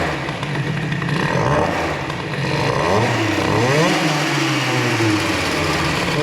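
A small Airsal Nitro 50 moped engine with a PHBG 20 carburettor revs loud and close, with buzzy rising and falling pitch sweeps as the throttle is blipped repeatedly.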